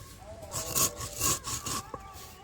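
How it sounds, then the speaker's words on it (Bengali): Dried chili and spices are coarsely crushed by hand for a ripe tamarind pickle, producing a few rough grinding, scraping strokes in quick succession, close up with no talk. "লঙ্কাটা এরকমই গুঁড়ো করব, একদম মিহি গুঁড়ো করব না।"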